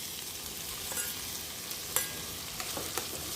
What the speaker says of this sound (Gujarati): ટામેટાં આપણા સતળી રહ્યા છે